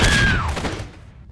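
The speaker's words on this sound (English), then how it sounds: "There's a lot of gunfire and explosions." Gunfire and explosions in Age of Empires 3's Napoleonic era erupt as a loud burst of overlapping shots and booms with a whistling tone sliding down, then fade quickly toward quiet.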